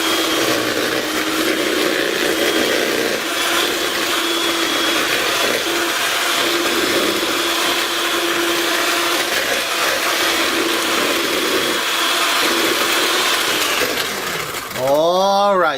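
An electric mixer whirs steadily while beating an egg into creamed butter and sugar for Surinamese cornstarch cookies, a continuous close hum with a brief clatter near the end.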